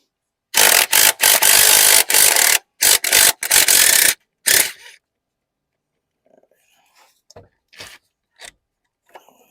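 A ratchet wrench works an 18mm bolt on a Cadillac CTS during an oil pressure sensor replacement, giving a run of loud, close ratcheting bursts followed by a few faint scattered clicks.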